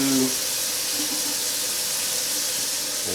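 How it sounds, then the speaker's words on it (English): Water from a measuring cup pours steadily into a pot, a continuous bright close splashing rush that fills the whole moment with no voices. "So we go 2 cups of water there."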